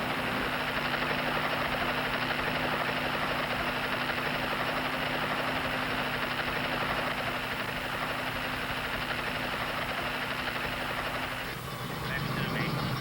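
A helicopter flies over whales off the coast near Portugal Cove South, its rotor and engine making a steady, close droning roar that holds throughout and shifts in tone near the end.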